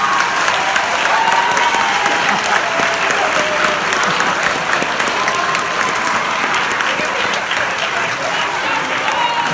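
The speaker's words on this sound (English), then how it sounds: "Let's give them a big round of applause" A crowd at a senior all-night party hypnosis show breaks into a big round of loud, sustained applause mixed with cheering and whoops, steady and dense throughout, with faint voices mixed in.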